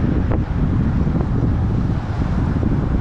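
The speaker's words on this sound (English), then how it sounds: "the wind is definitely going to get me on this descent" Loud, steady wind rushing over the microphone during a bicycle descent on a Ribble Endurance SL Disc road bike in South Texas, a continuous roar with no talk.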